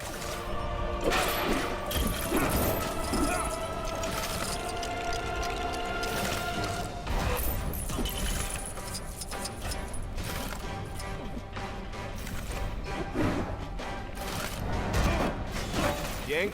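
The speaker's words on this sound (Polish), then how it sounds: "Celny rzut moją tarczą sprowadzi je na dół." In Lego Marvel Super Heroes 2, a thrown shield knocks stacked crates down, giving several clattering crashes and mechanical rattles over a dense, loud, continuous game soundtrack.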